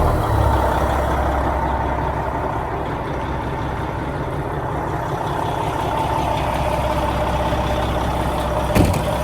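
A road train truck's diesel engine idles with a deep, steady rumble and throb close by, holding constant throughout, with a brief hiss near the end.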